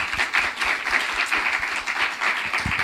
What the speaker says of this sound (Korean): 오늘은요 2026년도 첫 번째 예배니까요 박수 한번 하겠습니다.